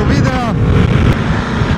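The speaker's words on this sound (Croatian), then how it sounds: "Ne znam jel vi ovo čujete, ali ovdje je jako puše." Strong wind, a bura gusting hard enough to break trees, buffets the microphone in a loud continuous low roar, with a voice speaking over it briefly.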